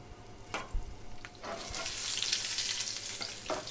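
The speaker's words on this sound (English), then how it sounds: "put the fish into the pan with the bread side down and allow it to get some colour" A salmon fillet with a bread crust sizzles steadily in a hot pan, crust side down, with a broad constant hiss and a few sharper crackles and spatters.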